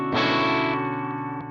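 Guitar chord through a Jackson Audio Golden Boy pedal feeding a Broken Arrow overdrive, one strummed chord ringing out with a lightly driven, sustained tone and a faint pick noise near the end.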